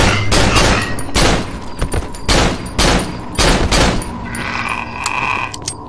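Handgun fire in the horror video game Cry of Fear, a series of loud heavy shots in quick bursts with booming tails, ending in quieter mechanical sounds, no speech.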